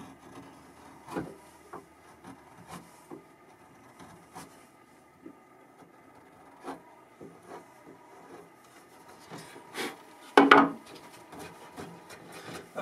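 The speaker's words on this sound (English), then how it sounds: "Another way to use the chisel is to flip it over and carve in this fashion." A chisel carves guitar soundboard bracing wood, giving faint, scattered scraping and shaving strokes through most of the passage, then one louder, closer rasping cut near the end.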